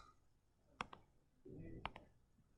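A few quiet button presses on a graphing calculator, two pairs of sharp clicks with a brief low murmur of speech between them.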